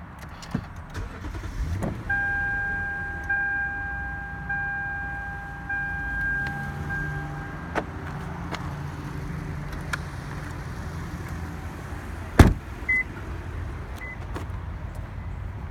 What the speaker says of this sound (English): If I go back up and start the car, I can show.